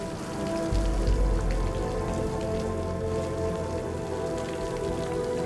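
Steady rain pattering on a surface, dense and continuous with a slight swell near the start, no voices.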